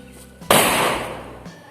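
A single sharp firecracker blast bursts close by inside a paper cup, then its noisy roar fades away over about a second.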